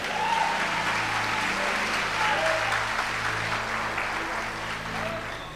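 A church congregation applauds steadily through the whole stretch, an even, sustained wash of clapping over a low hum, with faint voices mixed in.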